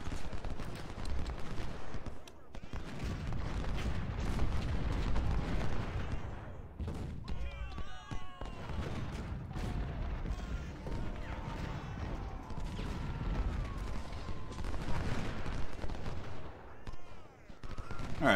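Rolling musket volleys and cannon fire rumble through the Gaines' Mill battle in the Ultimate General: Civil War strategy game, a continuous dense barrage of overlapping shots and crashes with no pause.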